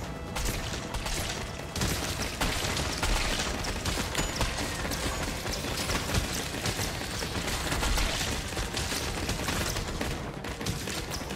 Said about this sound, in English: Shoot, shoot, firing.